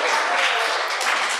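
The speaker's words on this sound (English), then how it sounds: "Guys, round of applause for Ryder," A youth group breaks into quick applause for a teenager, a brief burst of dense clapping from a room of young people, close and loud with no break.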